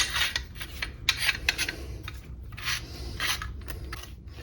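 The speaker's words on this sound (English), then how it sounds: "Okay, barrel slips right in." Metal parts of an Uzi rubbing and clicking as the barrel slides into a rewelded trunnion, close up with scraping and light clacks in an irregular rhythm.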